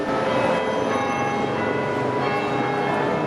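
Church bells of Old Bailey, London, ring continuously, their overlapping metallic tones blending into a dense, loud wash with no pauses.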